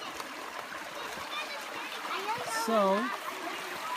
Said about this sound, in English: here's a little creek that all the kids are enjoying